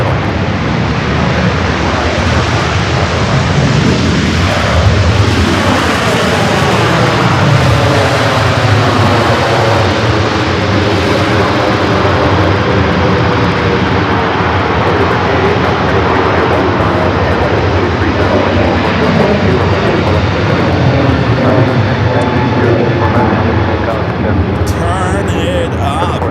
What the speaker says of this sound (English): heavy 787 rolling out